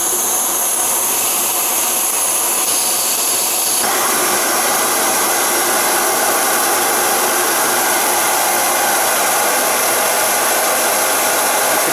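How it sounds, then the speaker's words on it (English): A loud, steady roaring Primus OmniFuel multi-fuel camping stove burner hisses without pause, a broad rushing noise that grows fuller a few seconds in and holds close and constant. "This stove, unfortunately, is a lot louder."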